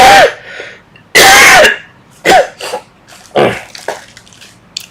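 A person coughs in several sharp, loud bursts: two strong ones near the start, then a series of shorter, softer coughs with brief breaths between them, close to the listener.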